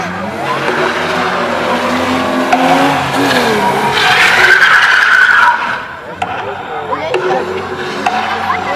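Monster truck show vehicles revving hard and skidding on the track, loud engine roar and tire noise mixed with crowd and announcer chatter throughout, with a brief dip in intensity near the end.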